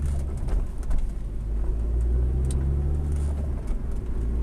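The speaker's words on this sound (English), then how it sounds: "you've got the rumbling of my car, you've got the road noise, you've got traffic going past" Steady low rumble from inside a moving car, with continuous tyre and road noise and other traffic passing by, no talking.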